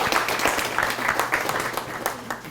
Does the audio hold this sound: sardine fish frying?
no